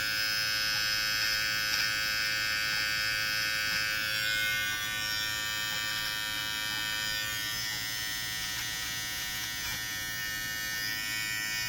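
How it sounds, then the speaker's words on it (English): A Brightup rechargeable hair clipper and beard trimmer, used as a precision trimmer, runs with a steady, close electric buzz that holds nearly unchanged throughout. "Let's try this precision trimmer."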